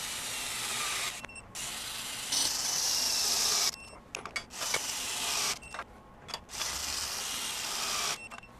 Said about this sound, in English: We use our high torque tool here set at 200 foot-pounds.